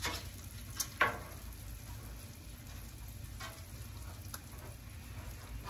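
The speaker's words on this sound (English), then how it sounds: "Put a little bit of oil down for our pancakes." Pancake batter sizzles in oil on a hot Blackstone flat-top griddle, a steady close hiss running through the whole stretch with a couple of brief clicks near the start and no talking.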